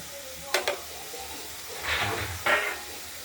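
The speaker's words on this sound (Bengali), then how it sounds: "তেলগুলোকে আমরা কড়াইতে গরম করে নেব তাহলে তেল বেরিয়ে যাবে" Fish fat heating in a wok gives a soft, low sizzle, broken by a couple of sharp clinks near the start and brief scraping bursts later on. Nobody speaks.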